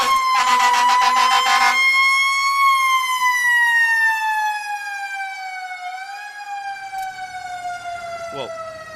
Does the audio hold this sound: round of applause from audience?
no